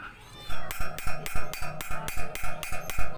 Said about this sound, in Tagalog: Konting pukpok para medyo lumoglog yung kapit.